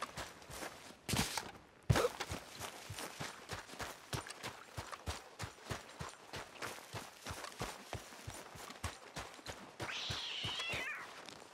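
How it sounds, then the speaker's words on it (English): A cat in the Red Dead Redemption 2 game world meows repeatedly at close range, its cries rising over a steady rhythmic patter of footsteps or hoofbeats, with no talk. "Hey there, cat."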